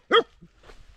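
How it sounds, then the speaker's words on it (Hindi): A large nomad herders' dog, a Bakarwal guard dog in a forest camp, gives one loud close bark followed by a softer short yip, with faint background noise after. "इनकी जो भौंकने की आवाज़ होती है यही सबसे इनकी कीमत होती है जी"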